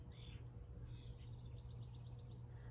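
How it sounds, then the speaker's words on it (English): Birds calling outdoors, a couple of crow-like caws followed by a quick series of short repeated chirps, faint against a low steady background hum. "More birds."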